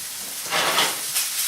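A steak sizzles in a hot frying pan, a loud broadband hiss that swells and fades slightly, with no one talking.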